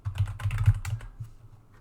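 Quick close keyboard typing as a line of Python code is entered, with a rapid run of keystrokes that slows to a few final taps, clear and alone.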